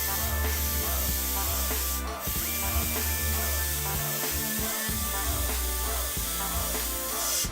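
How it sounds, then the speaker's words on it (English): An airbrush sprays paint through a stencil in a monochrome airport scene, giving a soft continuous hiss with short pauses beneath steady background music. "Now even with a stencil, I'm not blasting paint on."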